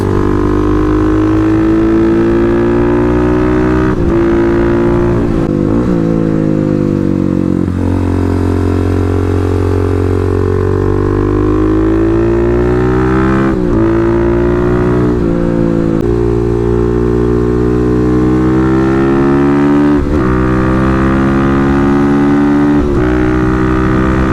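A 250 motorcycle engine drones loudly and continuously while riding through twisty roads, its pitch rising and falling as the rider shifts and throttles through the bends.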